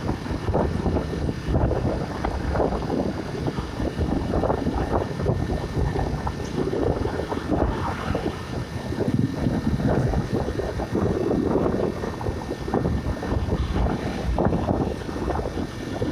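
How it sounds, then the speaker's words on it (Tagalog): Steady, heavy wind roars against the microphone along a road in Pangasinan, Philippines, for the whole stretch, a continuous rumbling buffet with no talking. "yung hampas ng hangin mo, medyo nasa gitna na ako eh, ramdam ko pa rin"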